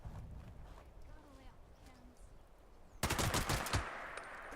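Fallout 76 gunfire erupts as a loud, rapid burst of shots after a quieter stretch, continuing as a dense volley near the end.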